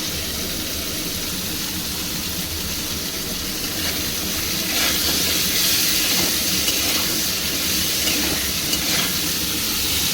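Radish and potato pieces fry in a pan with salt for a Bengali shol mulo dish, giving a steady, loud, hissing sizzle that runs unbroken throughout with no voices.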